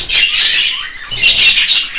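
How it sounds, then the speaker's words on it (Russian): Budgerigars in a breeding nest setup, squawking and chirping in two close, loud bursts of shrill calls with a short gap between them. "уже посадил волнистых попугаев"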